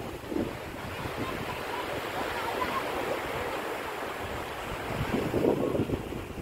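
Sea waves washing onto the beach at Fahaheel, Kuwait, a steady close wash of surf mixed with wind buffeting the microphone, the swell rising slightly toward the end, with faint voices in the background.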